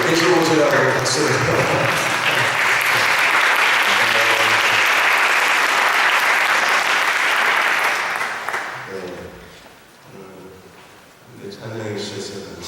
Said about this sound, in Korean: 뜨겁게 계시고 오시라고 박수를.